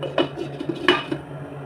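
A lid lifts off a pot of fish curry boiling on the stove, giving two sharp metallic clinks close by over a low steady hiss of bubbling, with no voices.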